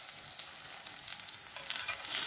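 Eggplant pieces fry in hot oil in a pan, giving a quiet, continuous crackling sizzle with small pops that grows slightly louder toward the end.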